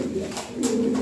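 A breeding pair of pigeons coos nearby, soft throaty rolling calls repeating close up with light background noise.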